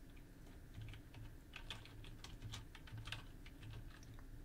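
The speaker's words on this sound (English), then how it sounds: "You want to put your mouse cursor in there and type" Quiet keystrokes tap out a short burst of typing on a computer keyboard, faint and close, with soft irregular clicks and no talk.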